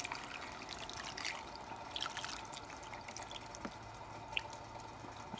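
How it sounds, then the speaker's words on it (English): Water poured from a bottle into a cooking pot of smothered pork neckbones, a faint steady trickle with scattered drips and splashes, heard alone at low level. "Now I'm going to add my water"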